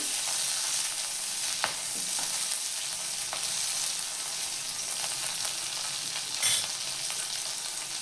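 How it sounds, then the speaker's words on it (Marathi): Green chillies roast in oil in a pan for a spicy thecha, a steady near sizzle with occasional sharp scrapes and clicks from stirring, no talking. "आता अजून थोड्या भाजून घ्यायचं तेल टाकून"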